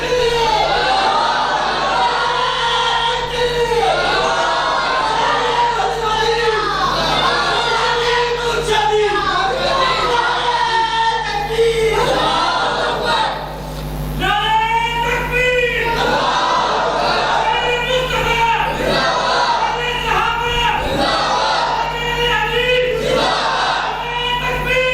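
A large religious gathering chants slogans together, loud rhythmic collective shouting that carries on continuously, with a lead voice calling and the crowd answering.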